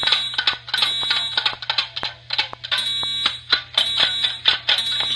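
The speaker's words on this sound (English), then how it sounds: "People test school fire alarms." A school fire alarm being tested by the Lake Villa Fire Department rings loud and shrill, a harsh electronic bell sounding in repeated bursts with a steady low hum underneath and no talking.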